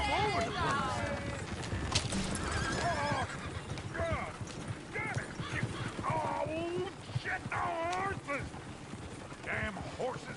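Horses in a video game neighing and whinnying repeatedly, close by, with hoof clatter and people talking over them.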